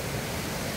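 Steady broadband rush of the El Salto river waterfall heard from a nearby vantage point along the river, a continuous even roar with no voices over it.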